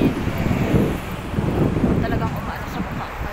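Wind buffeting the microphone in low gusty rumbles while walking beside a road, with passing traffic noise blended in; a voice speaks over it.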